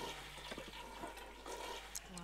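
A toilet flushing in The Sims 3: a brief, close rush of swirling water, with a voice briefly over it.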